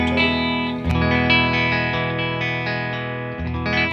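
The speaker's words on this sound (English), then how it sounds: "right now, clean tone through a deluxe reverb through the" Electric guitar on a clean tone through a Fender Deluxe Reverb's vibrato channel, with sustained ringing chords that shimmer and swell, a couple of fresh strums restating the harmony, played alone without talk.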